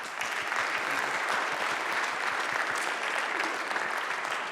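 Steady, dense audience applause fills the room at the close of a BSides security conference talk, many hands clapping at once with an even, sustained wash and no voices.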